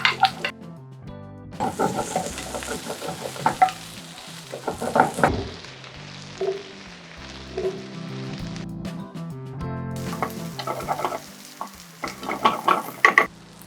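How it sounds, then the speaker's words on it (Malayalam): Ginger, garlic, curry leaves and shallots fry in a pan with a crackling sizzle, broken by spoon scrapes and clinks against the pan, with loud and quiet stretches alternating. "നമ്മുടെ ഇഞ്ചിയും വെളുത്തുള്ളിയും നന്നായി മൂത്ത് വന്നിട്ടുണ്ട്"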